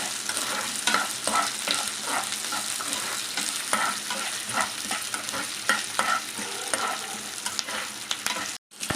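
Green chillies with urad dal and chana dal fry in a pan for peanut chutney, a constant crackling sizzle broken by repeated rhythmic spatula scrapes, close and unaccompanied by speech.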